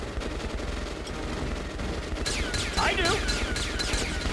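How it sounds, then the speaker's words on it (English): Enemy ammunition storage cooking off in Metro: Last Light, a dense crackle of rapid popping bursts like gunfire, loud and continuous, with a short spoken reply over it. "Apparently I hit their ammunition storage, sir. It's going off like popcorn."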